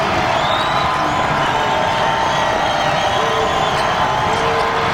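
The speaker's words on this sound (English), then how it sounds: "the crowd is roaring because of Carver's heroics" A basketball arena crowd at a 2001 Big Sky women's championship game, Idaho State against Montana, roars and cheers in a loud, continuous wash of noise.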